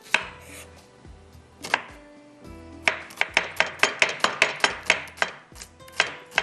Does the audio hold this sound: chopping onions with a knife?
yes